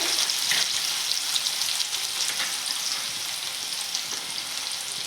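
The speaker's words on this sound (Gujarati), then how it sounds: "સૌથી પહેલાં આપણે ડુંગળી સાતરી લેશું" Sliced onions sauté in hot oil in a pan for batata poha, giving a steady close sizzle and crackle throughout, with a few soft stirring scrapes and no talking.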